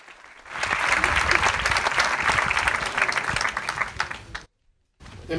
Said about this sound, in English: I'd love everyone to give them a round of applause